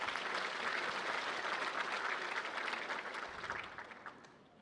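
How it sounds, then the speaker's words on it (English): Applause from a conference audience welcoming leaders and guests at a tourism development event in Xinjiang, a dense steady wash of clapping that slowly fades out over several seconds. "Let's welcome all of the leaders, guests, and friends with applause"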